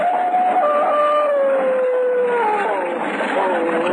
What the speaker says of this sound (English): the devil dogs ran, snarling and howling